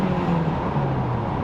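Engine of a Mazda MX-5 NC heard from inside the car, a steady, moderately loud hum with a slowly shifting pitch throughout, no voices over it.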